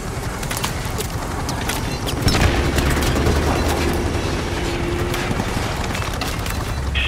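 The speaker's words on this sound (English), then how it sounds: "We've got RPGs down there." RPG explosions and gunfire in Call of Duty Modern Warfare Remastered, a dense combat din of distant booms and crackling shots, with a heavier blast partway through and a steady rumble beneath.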